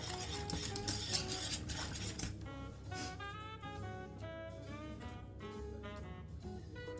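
A spoon scrapes and clinks steadily around a pan of thickening white sauce, a continuous close stirring texture with no talking.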